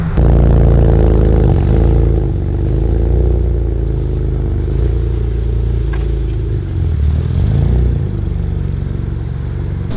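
BMW with an N54 engine on a test drive, a steady low engine drone and rumble from inside the car, fluctuating slightly with throttle, with light clatter and road noise, loud and close.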